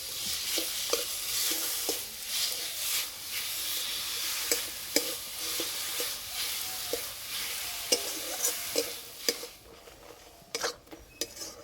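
Fried grated coconut and sugarcane jaggery are stirred in a pan under a constant close sizzle, punctuated by repeated sharp clinks and scrapes of a utensil against the metal.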